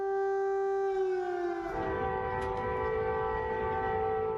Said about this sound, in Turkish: Başkent Kiev'de, Harkov'da, Odessa'da sirenler çaldı.